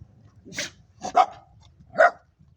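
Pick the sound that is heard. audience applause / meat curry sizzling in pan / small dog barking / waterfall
small dog barking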